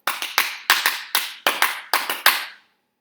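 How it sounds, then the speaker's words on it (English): A small group claps for a percussion captain at a band event, bursts of handclaps in quick uneven clusters, near and clear, stopping abruptly after a few seconds. "Round of applause."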